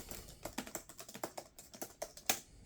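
Typing on the keyboard of an old Gateway laptop with an Intel Centrino, built for Windows XP: a close, quiet run of crisp key clicks in an uneven rhythm, about fifteen taps, with no talking.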